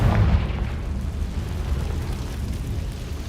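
A Confringo explosive spell blast in Hogwarts Legacy, a single deep boom at the start that rolls off into a low rumbling tail, fairly loud and alone.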